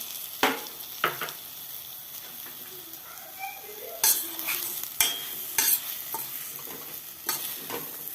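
A spoon stirs a pot of chicken yogurt soup with boiled chickpeas, giving intermittent sharp scrapes and clinks against the pot, with a quiet simmer between strokes.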